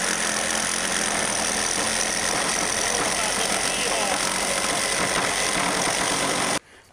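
A wood-cutting power tool with a small engine runs at a children's workshop in Turku, giving a loud, steady, rough drone that holds for about six seconds and then cuts out abruptly.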